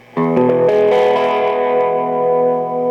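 Overdriven electric guitar through Boss OD-1 and Ibanez TS10 Tube Screamer pedals plucks a few quick notes, then rings out in a thick, saturated sustained chord with boosted mids and a slight chorus shimmer.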